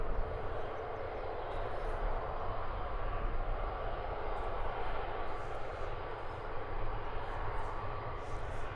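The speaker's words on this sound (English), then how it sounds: "This is Ryanair flight 338. Destination is Dublin for this 737 MAX 8." A Ryanair Boeing 737 MAX 8 airliner at London Luton Airport produces a loud, continuous broadband jet engine roar that holds steady throughout, close and dominant with no talking over it.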